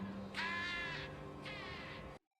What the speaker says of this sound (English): That's why the crows say car.